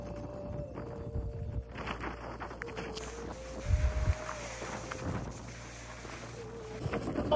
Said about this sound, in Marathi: इतक्या मोठ्या प्रमाणामध्ये मित्रांनो वारा आहे ना, आल्यापासून वारा